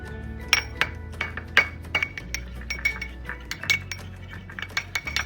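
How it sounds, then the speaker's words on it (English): Spoon clinking against a bowl while curd and honey are stirred together, a quick irregular series of close, bright taps and scrapes over a faint low hum. "You just have to mix the curd and take some honey in this."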